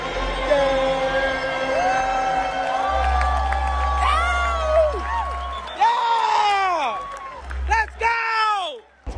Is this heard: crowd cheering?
yes